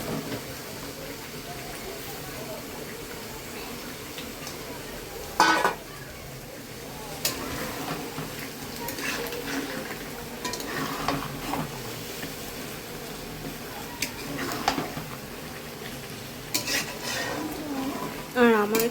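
Chicken pieces dropped into spiced masala and stirred for a curry: a low continuous sizzle with scattered spoon scrapes and clanks against the pot, a few louder knocks along the way.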